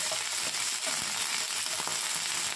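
Mustard seeds splutter and pop in hot coconut oil in a pan, a dense continuous crackling sizzle with scattered sharp pops, close and steady throughout with no voices.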